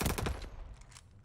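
Call of Duty: Vanguard gunfire, a quick burst of rapid automatic shots that fades out within a second, loud at first and then dying away.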